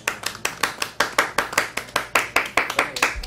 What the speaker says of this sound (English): So when you see go, clap your hands.